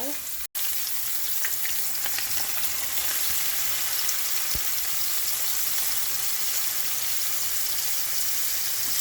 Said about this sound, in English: Show you guys that it's starting to fry